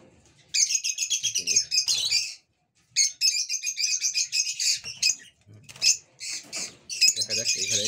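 A pet bird inside a breeding box gives bursts of rapid high chirping, loud and close, broken by short pauses, with faint low scratching or rustling between the calls.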